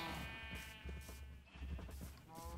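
Sheep bleat in the video game Minecraft, several wavering bleats in quick succession over a low rumble, fairly faint, with no talk.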